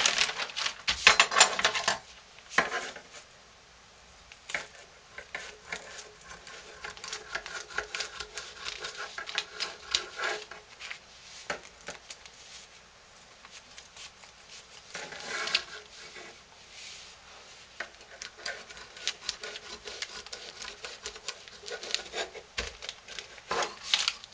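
Scissors trim a hardened bar of lye soap in a series of uneven crunching snips and rubbing scrapes, close up, with pauses between bursts.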